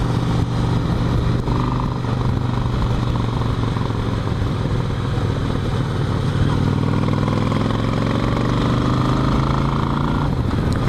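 A large motorcycle engine idles steadily close by with a low even rumble, pitch shifting slightly near the end; no voices.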